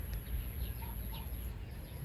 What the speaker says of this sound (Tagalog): Mga alaga niyang manok.